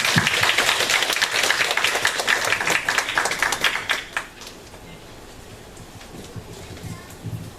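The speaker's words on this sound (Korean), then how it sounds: "박수로 환영하도록 하겠습니다." Congregation applause fills a church Sunday worship service, dense clapping from many hands for about four seconds before thinning out to scattered, quieter claps.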